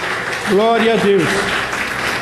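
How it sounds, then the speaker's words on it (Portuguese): A church congregation applauds in worship, a broad wash of clapping running steadily beneath a voice calling out praise. "Vamos dar uma salva de palmas ao Senhor."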